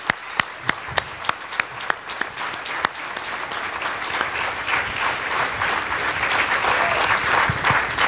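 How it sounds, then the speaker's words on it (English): A church congregation claps together during praise, starting with sparse, sharp individual claps that build into steady, loud sustained clapping from the whole room. "Let's clap our hands to God."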